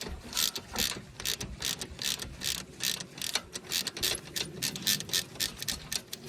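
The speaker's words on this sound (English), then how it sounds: "You put yourself a 17 mil spanner on there, and then we can just undo that" A 17 mm spanner works loose a front brake caliper bolt on a Mini Cooper S F54, giving a steady series of close, sharp metallic clicks in an even rhythm.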